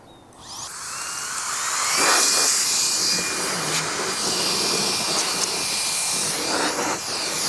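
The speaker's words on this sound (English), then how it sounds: "another thing this is good for is to blow the leaves out of this little gully right here" A Meco Eleverde turbo fan blower whines and hisses steadily at close range as it blows leaves out of a small gully, its pitch shifting slightly as it is moved.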